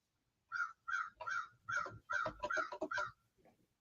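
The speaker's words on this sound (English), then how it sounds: "I hear a bird" A crow caws outside a window, about nine harsh calls in a quick irregular run, clear and moderately near against a quiet room.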